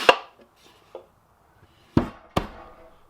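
A few sharp wooden knocks as a removable wooden drawer bottom slides into place, one early and two close together near the end, with quiet pauses between them.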